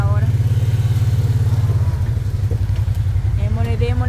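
A motorcycle engine idling loud and close, its low pulsing putter steady throughout with a short dip, while people talk over it.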